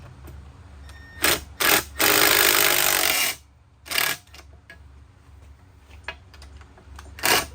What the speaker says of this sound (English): And get this last 10mm bolt out.